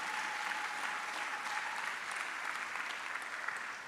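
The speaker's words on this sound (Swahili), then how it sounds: "Hayo makofi yatoshi" A church congregation applauding steadily at a revival service, dense continuous clapping from a large crowd that fills the room and fades slightly toward the end.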